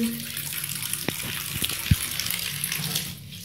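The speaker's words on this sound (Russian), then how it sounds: "Это водяная бомба." A water bomb bursts and splashes, giving a steady wash of spraying, trickling water with a few sharp splashy hits in the middle, fairly close and continuous before tapering off at the end.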